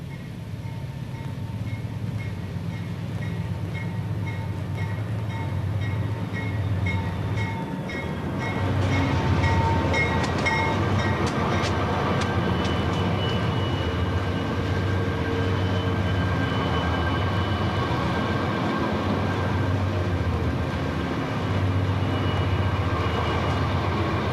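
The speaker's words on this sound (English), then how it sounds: "The train will tiptoe along at no more than 12 miles per hour" A train climbing a mountain grade on Horseshoe Curve, below 12 mph, rumbles steadily and continuously at close range, a deep, low drone that grows slightly louder partway through.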